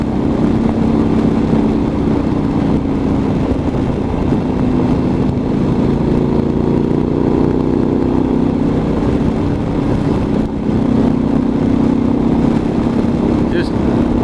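A motorcycle cruises along back roads with a steady, loud engine drone and wind roar from the rider's position, and a voice speaks over it.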